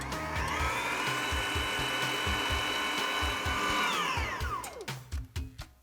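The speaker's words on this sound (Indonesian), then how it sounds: "Kita akan kocok sampai dia itu soft peak ya, kurang lebih 5 menit dengan speed sedang ke tinggi." An electric hand mixer whips cream with sugar to soft peaks at medium-high speed for a cake roll, a steady loud whirring drone that winds down near the end, followed by a few clunks of the beaters.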